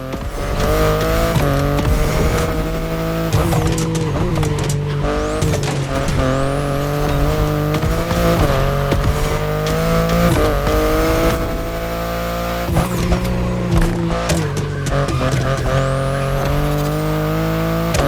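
A BMW i8 hybrid sports car driven in The Crew Motorfest racing game: a loud, continuous engine drone that rises and falls with revving and shifts, with bursts of tire squeal throughout and no talking.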